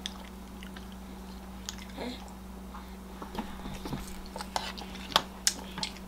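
Someone eats a breakfast of smoked sausage, eggs and pancakes, with soft chewing and occasional crisp bites and utensil clicks under a steady background hum, growing more frequent toward the end.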